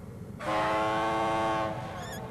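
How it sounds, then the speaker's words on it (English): A tugboat's whistle in a children's cartoon sounds one long, loud, horn-like tone with strong harmonics, sustained for over a second before cutting off, followed by a short higher chirp. "Theodore blew and blew, trying to make his whistle sound serious and important."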